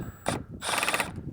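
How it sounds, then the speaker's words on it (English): A torque wrench set to 32 inch-pounds clicks twice while tightening a fastener during a Retrax MX tonneau cover install on a Ford F250 Tremor, the clicks sharp, close and metallic, with no talk over them. "One more click, click."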